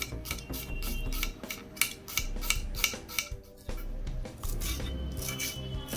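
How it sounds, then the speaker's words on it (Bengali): A knife finely chops an onion on a board in a steady series of quick, crisp cutting strokes, close and fairly quiet, with a short pause partway through and no talking. "এখন আমরা পেঁয়াজটাকেও একইভাবে একদম চিড়িচিড়ি করে কেটে নেব"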